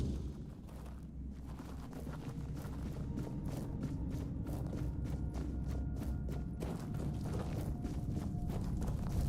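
In the game Tainted Grail, a horse's hooves clip-clop at a steady running pace over a low, rumbling ground noise. The hoofbeats are fairly close and continuous, with no talk over them.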